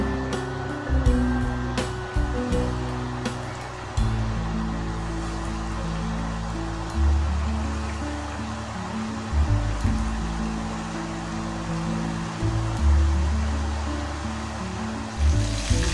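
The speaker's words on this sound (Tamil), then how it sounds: "ஆயில் நல்லா சூடான பிறகு அடுப்பை மீடியம் ஃப்ளேமில் வச்சுட்டு நம்ம ரெடி பண்ணி வச்சுருக்க சிக்கனை ஒன்றா சேர்த்து பொரிச்சு எடுக்கலாம்." Chicken popcorn pieces deep-fry in hot oil over a medium flame, a dense, steady crackling sizzle that lasts throughout, with a few brief pops and low background rumbles.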